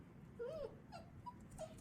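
A dog whimpers faintly in a few short, high, wavering whines that rise and fall over a quiet room background.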